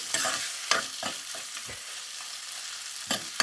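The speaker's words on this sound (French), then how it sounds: "je vais mélanger tout ça pour préparer la farce de mes bondas" Potato and onion filling for aloo bondas being stirred in a pan, with a steady faint sizzle under repeated scraping strokes of the spoon, close and moderately loud.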